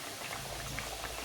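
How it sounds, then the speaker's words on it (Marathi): Corn cutlets fry in oil on a pan, giving a faint, steady bubbling and fizzing with no voices. "आता आपण याला बुडबुडे कमी होईपर्यंत चांगल्या भाजून देऊ, तळून काढू."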